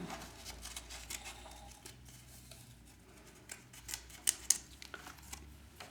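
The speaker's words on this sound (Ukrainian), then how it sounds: "Я отут малесенькими ножничками вирізаю." Small scissors snip through cardboard while cutting out a paper doll, a run of faint, soft clicks and crisp snips scattered over quiet room tone, with a few sharper cuts near the end.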